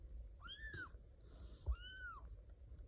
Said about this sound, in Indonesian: Udah bisa ngeong juga kayak kakaknya.